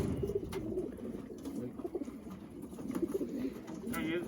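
Racing pigeons coo softly and repeatedly close by while being loaded for a 350-mile race, with low throaty calls overlapping and shuffling and handling noise mixed in.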